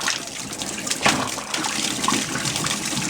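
Water runs hard from a faucet with its aerator removed while the line is bled out, making a close, continuous splashing gush with slight surges in strength, with no talking.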